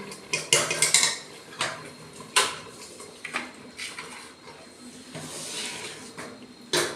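Kheer being served onto a plate: a series of close clinks and scrapes of a metal spoon against a vessel and plate, irregular and sharp, with quieter shuffling between the strikes.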